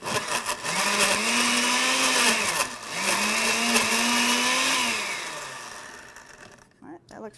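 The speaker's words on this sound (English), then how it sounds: "I'm going to blend it up." A blender whirs loudly for several seconds, rising and dipping in pitch as it blends a drink, then winds down; a voice speaks briefly near the end.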